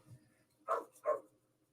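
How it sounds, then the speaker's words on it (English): A dog barks twice in quick succession, two short muffled woofs at moderate distance in an otherwise quiet room. "barking at someone or something."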